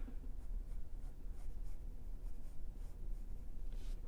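A pencil drawing curved outline strokes on paper makes soft, close scratching, repeated in a quiet series of brief sweeps with no talking.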